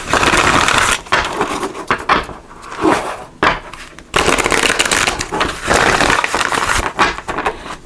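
Path of the Soul Destiny oracle cards are shuffled in loud, close bursts of riffling and slapping, with a couple of brief pauses between rounds.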